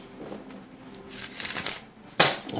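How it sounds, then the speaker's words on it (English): Cards riffle-shuffled up close, a soft flutter building to a quick burst of crisp clicking, then a sharp snap as the deck settles. "Shuffle it one more time."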